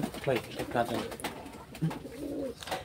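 Pigeons in a Bengali pigeon loft give soft low cooing calls, a few short coos scattered among nearby human talk.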